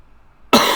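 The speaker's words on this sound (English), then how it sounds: "Sorry for coughing on mic." A single loud cough right into the microphone, sudden after near silence, from someone getting over a cold.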